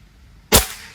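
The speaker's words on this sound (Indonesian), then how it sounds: "Oke, kita mulai tembakan pertama ya." A single sharp, loud crack of a Bocap Baretto 500 cc long-range air rifle firing, close by, with a brief decay in a quiet setting.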